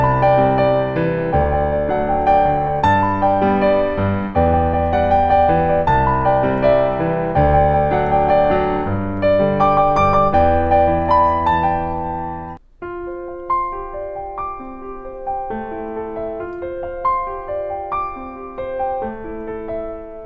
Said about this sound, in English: So it's going to sound like this: 4 to the 5 to the 1 to the minor 6.